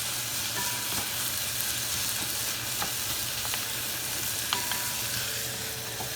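Chicken yakhni fries in a pan over a high flame, a steady dense sizzle with occasional pops and stirring clicks, close and continuous, no voices.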